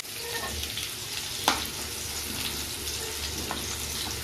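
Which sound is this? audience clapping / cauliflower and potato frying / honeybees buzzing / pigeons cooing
cauliflower and potato frying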